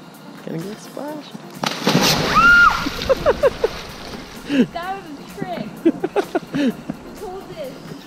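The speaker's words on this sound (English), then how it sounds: "Gonna get splashed." Water splashes into Lake Washington, a loud broadband burst of spray and sloshing near the mic, with people talking and exclaiming before and after it.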